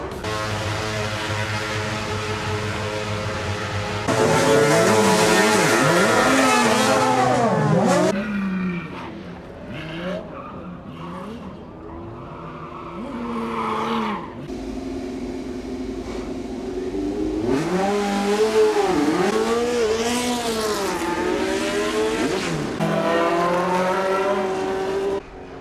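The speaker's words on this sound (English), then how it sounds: "17 F1 cars and Group C cars out for you at the moment." F1 and Group C race cars blast past at Goodwood, with loud engines rising and falling in pitch as several cars sweep by in succession, then a quieter gap before another pack screams through.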